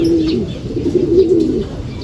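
Racing pigeons at a loft landing board during a derby in Tagudin, Ilocos, give soft repeated cooing calls, close and fairly loud over a low background murmur.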